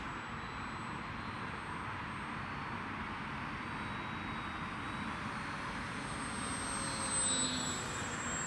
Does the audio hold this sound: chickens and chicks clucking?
no